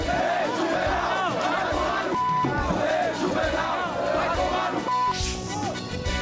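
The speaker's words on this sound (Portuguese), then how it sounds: "a torcida do São Paulo faz protesto contra a diretoria." Rhythmic chanting from a large crowd of São Paulo football fans protesting against the club's board after a defeat, a loud roaring chorus with repeated pulsing shouts.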